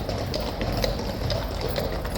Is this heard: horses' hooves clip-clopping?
yes